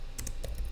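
Keys on a computer keyboard tapped while a command is typed, a few quick clicks spaced across a short moment over a low background hum, with no talk.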